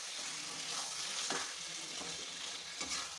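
Chicken stirred and fried in an oil-rich spice masala, with a steady close sizzle and several scraping stirs of the pan, no talking.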